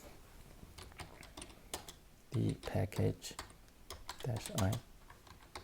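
Keys tapped on a computer keyboard while a terminal command is entered, a scattering of light clicks with a few louder bursts of quick keystrokes, close and fairly faint, with a voice speaking over parts of it.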